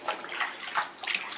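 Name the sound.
water splashing while bathing a baby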